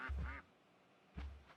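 Two short bursts of duck quacking from a farm duck in a Minecraft-style block-building game, separated by a pause, loud and close with no talk over them.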